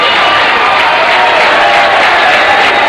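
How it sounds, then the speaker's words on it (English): A college baseball crowd at a Texas vs. Texas A&M game claps and cheers in a steady, loud roar. The din sounds broad and distant with no break. "They're clapping."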